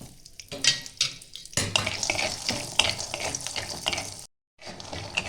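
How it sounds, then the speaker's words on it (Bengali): Peanuts fry in mustard oil in a pan, giving a steady sizzle broken by scraping stirs, with a brief silent gap near the end and no talking. "একটু আমি সরষের তেল দিয়ে ভেজে নেব।"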